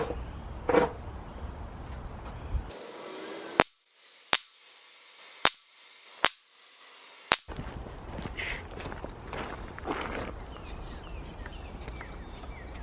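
A Smith & Wesson Equalizer pistol fires five sharp, loud shots at an outdoor bench, evenly spaced about a second apart, with faint background noise before and after.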